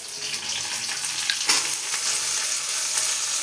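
Flat beans are poured into a hot pan with crushed ginger and garlic, and a loud, close sizzle hisses continuously, surging briefly midway as the food hits the oil.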